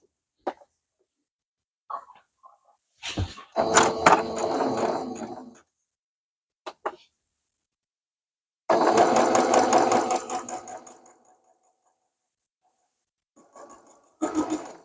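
A sewing machine pieces a heart quilt block in short separate bursts of fast stitching, with a longer steady run in the middle and brief pauses of silence between.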